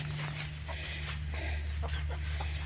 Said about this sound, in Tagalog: Ito yung mga manok na sunod kasi na dukal yung lupa kaya marami silang matutukang pagkain